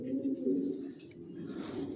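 Racer pigeons in a loft give soft, low cooing, a few rolling murmured calls close by, fairly quiet, with faint background rustle.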